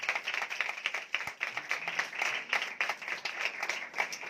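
A church congregation claps in a steady, rhythmic pattern during a sermon, moderately loud and continuous with a slightly distant, roomy sound.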